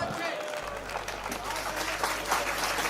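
Applause from an audience at a Hindi poetry recitation about Karna, a steady dense wash of clapping throughout, with a low hum underneath and faint voices mixed in.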